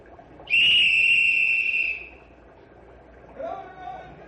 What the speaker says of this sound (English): Blow whistle, Tony. Run for cover.